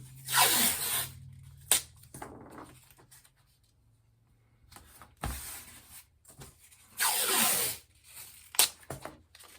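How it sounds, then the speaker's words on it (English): Strips of adhesive tape pulled off a roll and pressed along a handmade Christmas decoration, heard as several close, loud tearing bursts separated by quiet gaps and smaller rubbing sounds. "So all I have to be able to do is put the tape along here."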